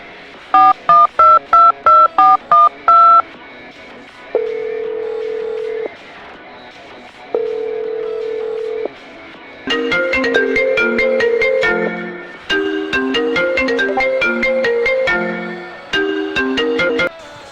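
A string of short touch-tone dialing beeps, then a steady electronic ringing tone, followed by a bright repeating ringtone melody played loudly without any voices.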